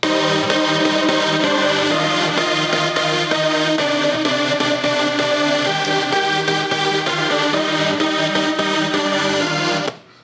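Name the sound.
third synthesizer layer added, different from the rest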